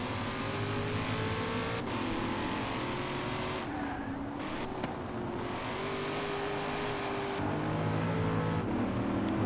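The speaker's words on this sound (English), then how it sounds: "The next car we're going to be testing is the 2020 Corvette Stingray Coupe, the first mid-engined Corvette." A 2020 Chevrolet Corvette Stingray Coupe, the first mid-engined Corvette, driven hard on a test track, its engine droning steadily and loud throughout with shifting pitch as it accelerates and changes gear, with no talk over it.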